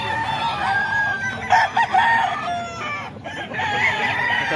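Roosters and other chickens belonging to Sir Jesse at a fowl sale in Bocaue crow loudly and repeatedly, with overlapping calls and clucks over steady background noise from the flock.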